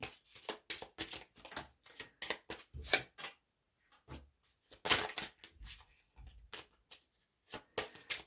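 Tarot cards being shuffled close by in quiet bursts of crisp, riffling snaps and slaps, each flurry lasting a second or so, with brief silent gaps between them.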